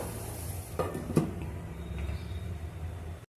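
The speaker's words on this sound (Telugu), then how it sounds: "పాలకూరని కొద్దిసేపు నూనెలో వేయించుదాము" Spinach cooking in oil in a pan for a palak aloo masala curry: a steady low sizzle with a couple of light utensil clinks, then a sudden cut to silence at the end.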